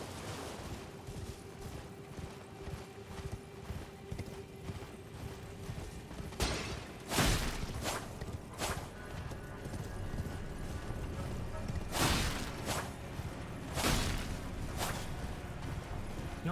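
Horse hooves pounding along while riding through the video game Elden Ring, a steady clip-clop rhythm under game ambience, with sharp loud impacts breaking in around the middle and near the end.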